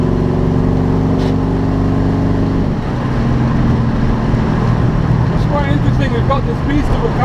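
A Jensen Interceptor FF engine accelerates with a loud, steady drone that steps down in pitch at a gear change partway through, on narrow winding roads.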